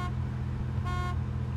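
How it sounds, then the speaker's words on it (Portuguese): A car horn in the video game ArmA 2 DayZ sounds one short tonal honk midway, over a steady low engine drone. "Eu tô buzinando"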